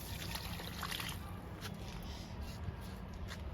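Liquid fertilizer trickles and pours onto a mulberry plant in a home garden, a soft, quiet, continuous dribble of water with faint background noise.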